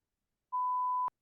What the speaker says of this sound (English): Sorry, I didn't mean to beep there.